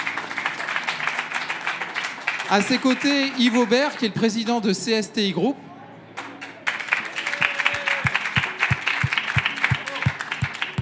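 At a regional business event in Provence, someone speaks into a microphone before the crowd breaks into applause, and a few loud, sharp claps ring out close by as the clapping continues.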